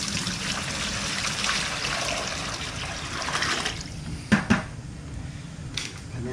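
Water poured into a container for mixing plaster for a mug casting, a continuous splashing trickle that tapers off, followed by a couple of sharp knocks, close and without talk.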